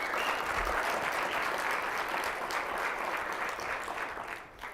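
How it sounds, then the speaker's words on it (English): An audience at a developer conference hackathon applauds the competitors with steady, dense clapping that holds evenly for several seconds and then starts to thin out at the end. "So give them all a round of applause for competing."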